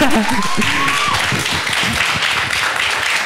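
A youth church service audience applauds a welcome, a dense wash of many hands clapping close by, loud and sustained, with a voice rising briefly over the start.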